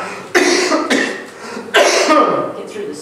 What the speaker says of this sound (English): Cough it up a lung.